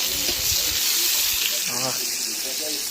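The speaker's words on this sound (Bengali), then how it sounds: "আমি এখন আলু ভাজি" Potatoes frying in a pan give off a steady broadband sizzle and hiss throughout, with people talking over it.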